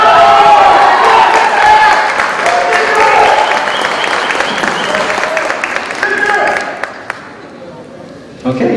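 A concert audience cheers and applauds loudly for a trumpet player, clapping and whooping together before the noise tapers off toward the end.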